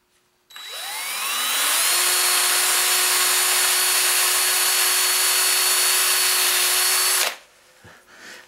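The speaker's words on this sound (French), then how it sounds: "Je suis en train de percer des trous dans ma roulette de ruban." A power drill bores holes in a wooden bowl blank during woodturning, a loud steady whine that rises in pitch as it spins up, holds for about six seconds, then stops abruptly, followed by light handling knocks.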